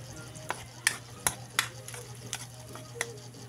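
Onions sauté in a pan over a wood fire: scattered sharp clicks and scrapes of stirring over a faint sizzle and low steady hum, quiet and close.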